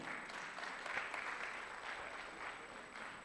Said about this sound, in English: please clap for us now